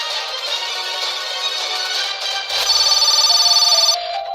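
A phone message notification plays as a ringing electronic tone, a bright jingle with a faster trilling burst in the middle, fairly loud and alone.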